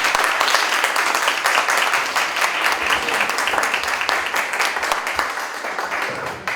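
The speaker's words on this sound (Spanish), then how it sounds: "Un aplauso" A university audience at a Semana de la Ciencia 2025 ceremony in Hidalgo applauds steadily for the whole stretch, a dense, even wash of many hands clapping at close range with no voices standing out.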